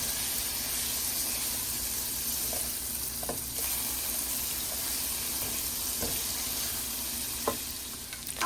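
Diced Spam frying in a pan for a stir fry, a loud steady sizzle with occasional scrapes and taps from a utensil as the meat is stirred, close up with no talking.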